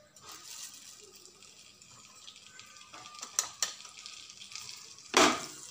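A spoonful of cumin seeds goes into hot butter and crackles in a low sizzle, with soft stirring taps and a louder splash near the end, all heard close and fairly quiet.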